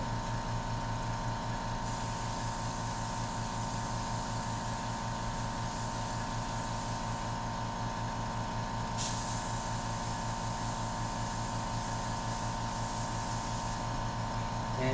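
An airbrush sprays India ink onto paper in a steady, even hiss that runs continuously for fifteen seconds, with a faint droning hum beneath it and no voices.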